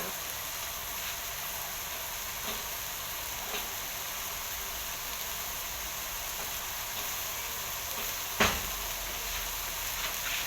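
Holy basil pork with dried chillies and bird's eye chillies being stir-fried in a wok, a constant close sizzle with faint scraping and one sharp clack near the end.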